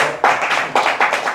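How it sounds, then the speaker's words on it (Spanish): A few close, sharp hand claps at a reading workshop, spaced in uneven bursts over about a second, loud and dry with little crowd behind them. "Un aplauso para Roberto."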